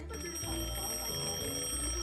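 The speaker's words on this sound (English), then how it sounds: "He turned the alarm on to test it." An alarm clock goes off with a steady, sustained electronic ring over a low hum, fairly quiet and continuous across the short stretch, with no talking.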